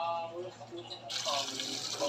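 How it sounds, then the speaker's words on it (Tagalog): Hot water poured off from a cooking pot after boiling, starting as a soft trickle and then swelling into a full gushing splash, close and loud, with a voice speaking faintly beneath. "drain muna natin yung mainit na tubig niya"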